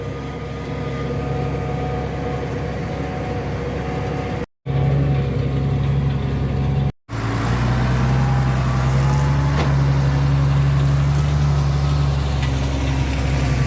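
Tractor hitched to a 930 and pulling a 3.50 m Kverneland Turbo 8000 cultivator during spring sowing: a loud, steady low engine drone with a constant hum, broken by two brief cuts, no voices.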